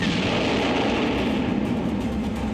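Missile attack explosions during a US–Philippines military exercise, heard as a dense, continuous rumbling roar with booming low-end blasts, loud and sustained throughout with no speech.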